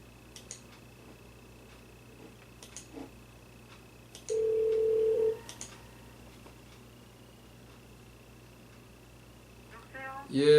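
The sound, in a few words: landline telephone dialing and ringing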